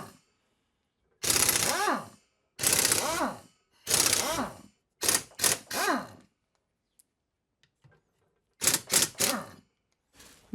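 A pneumatic air gun spins nuts off a Yamaha XJ6 motorcycle in close, loud bursts: three longer blasts, then a quicker cluster of short ones, a pause, and a final rapid trio.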